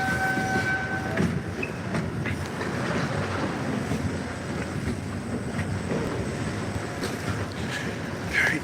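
An MBTA commuter rail train rolls past at night with a steady rumble and rhythmic clatter over the rails, brief squeals and tones rising above the continuous noise.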